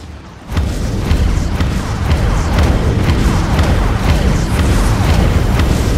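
Missile launches and heavy explosions in a space combat video game as a dreadnought is attacked, a sudden booming onset after half a second giving way to a dense, continuous roar of blasts and rumbling impacts.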